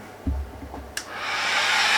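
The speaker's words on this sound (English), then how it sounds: "A hairdryer will do it." A hair dryer switched on to heat a patch on a PVC Zodiac dinghy: a thump and click, then a steady rising whoosh of blowing air close by, with no voices.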